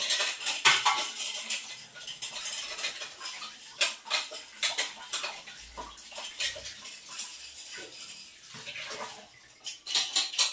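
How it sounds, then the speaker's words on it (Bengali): A pot lid is washed by hand with water, producing repeated close metallic clanks and scrapes in irregular bursts over running and splashing water. No one speaks. "তা এখন ঢাকনাটা ধুয়ে নিলাম"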